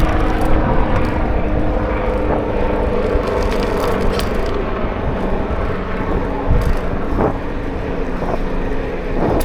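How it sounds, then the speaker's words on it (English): Airplane flying overhead during an urban bike ride, a loud continuous low roar mixed with heavy wind noise and road rumble. "I know now it was probably an airplane."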